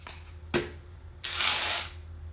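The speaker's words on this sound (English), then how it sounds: "I like hearing that sound when I'm rolling the dice." Dice rattle in a cup for a board game, with a sharp clack followed by a second of dense rattling close up, against quiet background.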